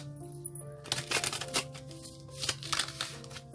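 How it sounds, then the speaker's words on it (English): Tarot cards are shuffled by hand in bursts of crisp riffling and flapping, close and fairly loud, over a quiet sustained musical drone. "One more shuffle, they say."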